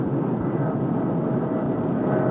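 An airplane in flight during an emergency in a 1983 television dramatization, its engines giving a loud, steady roar that fills the whole clip with no voices over it.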